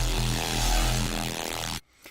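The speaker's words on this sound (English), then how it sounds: "Notch filters have an effect on the sound that's similar to that of a phaser" Heavy dubstep or drum-and-bass bass patch built in the Serum synth, run through an LFO-modulated notch filter that gives a sweeping, phaser-like movement; a loud, dense sustained tone that cuts off near the end, leaving a brief faint tail.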